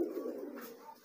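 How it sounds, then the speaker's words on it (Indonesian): A merpati kolong pigeon gives a single soft, low coo, close and quiet, lasting about a second. "Ini merpati kolong nih."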